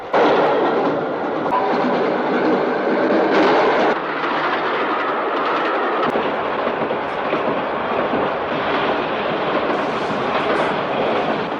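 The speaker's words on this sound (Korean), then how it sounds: "그리고 다시 기차는 달리기 시작했죠." A train runs along the tracks with a loud, continuous rumble and rattling clatter, steady throughout with brief shifts in intensity and no speech.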